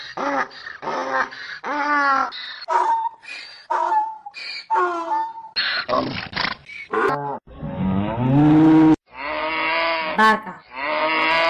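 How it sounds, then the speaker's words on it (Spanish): A cow gives a deep, drawn-out moo near the end, set among a string of other loud, close animal calls, including rhythmic braying-like pulses, that come one after another. "Vaca."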